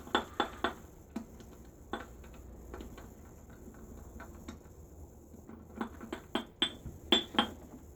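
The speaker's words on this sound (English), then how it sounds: "Sorry about the clinking." A shaving brush clinks against a mug while loading a Williams soap puck, sounding as irregular sharp glassy taps in small clusters, quiet between bursts and busiest near the end.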